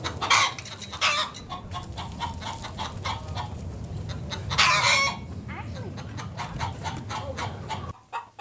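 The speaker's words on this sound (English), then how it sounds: "Good morning, chickens." A flock of about twenty chickens clucks and squawks nearby at a homestead coop in the morning, with busy overlapping calls and a louder flurry midway.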